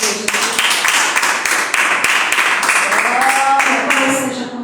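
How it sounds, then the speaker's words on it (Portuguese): A church congregation at a home worship service applauds to welcome missionary Lucinha, steady dense clapping with sharp rhythmic claps standing out, while voices and a rising shout or cheer carry over it. "Vamos receber com as palmas e com o nosso Jesus."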